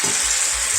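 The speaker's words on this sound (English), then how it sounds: "I'm going to add 1 cup of wine." A cup of wine hitting a hot pan after scallops were seared, giving a loud, close, steady sizzle that fills the brief moment without any voices.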